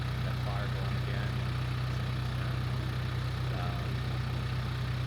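A tractor engine idles steadily with a constant low drone and a fine rhythmic chug, close and continuous, while someone talks over it.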